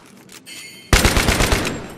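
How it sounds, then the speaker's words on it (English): Machine gun fire in Battlefield 3, opening after a quiet stretch with a sudden loud, rapid burst of shots that continues steadily to the end. "That's a machine gun, I think."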